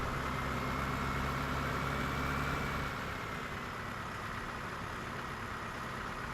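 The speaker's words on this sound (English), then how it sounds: "It's a light little tractor." Small light tractor in the video game Farming Simulator 2017 idling with a steady, dense engine drone, constant and unchanging, dropping slightly in level partway through.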